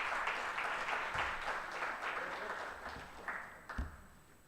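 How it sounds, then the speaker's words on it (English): At an afternoon awards plenary, an audience claps at moderate distance, a soft continuous applause that gradually thins into a few scattered claps and thumps. "So please give Stephen a lovely round of applause."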